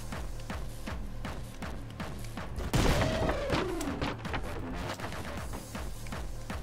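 Sniper rifle fire in the video game Anger Foot: a sharp crack near the three-second mark lands in a dense, constant barrage of gunfire and clatter that fills the whole stretch at high level.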